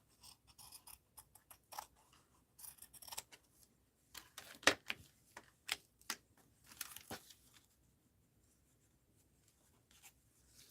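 Scissors snip and trim paper in short, irregular bursts of crisp cuts mixed with light paper rustling, close and fairly quiet, with pauses between clusters and no talking.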